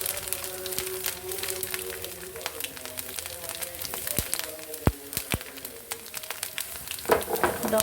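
Chopped coconut pieces fry in a pan for a jackfruit seed payasam, a soft continuous sizzle broken by sharp scattered pops and clinks of stirring close by.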